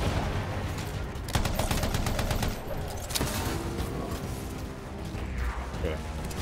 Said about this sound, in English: Where's all that enemy fire coming from?